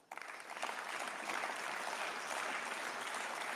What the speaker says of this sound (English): a few more claps this time